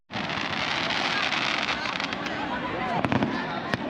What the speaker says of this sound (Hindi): पटाखा फोड़ने का सिस्टम मुझे लग रहा है कि चालू कर दिया गया है, आतिशबाजी अभी यहाँ होगा।